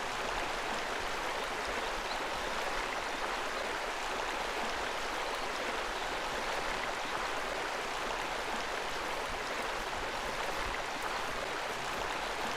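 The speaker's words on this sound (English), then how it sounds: "I like the sound of the water running." Running water of a stream in Ark, a steady, soft rushing wash that continues evenly throughout with no other sounds.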